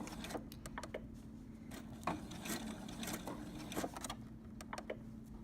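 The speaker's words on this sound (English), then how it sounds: "So when you start sewing, make sure that you back stitch." A sewing machine runs a basting-stitch seam through fabric, giving a quiet, steady mechanical hum with small irregular clicks and ticks as the stitching goes on.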